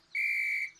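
A single short, shrill whistle blast, clear and close, lasting about half a second in a quiet setting.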